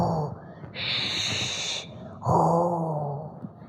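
A storyteller performing a folk tale imitates loud snoring with her voice, two drawn-out rasping snores, each a long inhale and exhale, close and clear.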